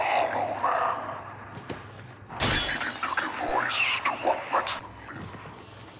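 Glass shattering in the video game Redfall, a sharp broadband crash near the middle followed by scattered tinkling fragments, with game ambience and brief talk around it.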